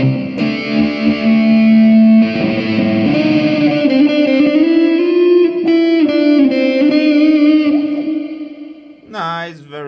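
A sustained electric guitar chord through a Zoom G3Xn hold reverb effect rings out with a long, shimmering reverb tail, swelling and changing pitch before a short burst of new notes.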